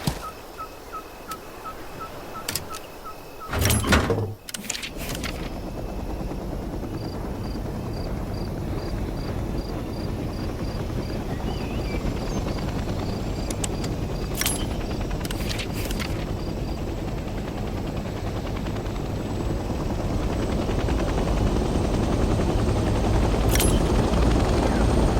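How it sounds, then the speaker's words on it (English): A helicopter engine in the Vietnam-era game Hell Let Loose starts up, with a brief clatter before settling into a steady, loud rotor and turbine drone that builds slightly across the clip. "Let's start by getting in the pilot seat and turning the engine on."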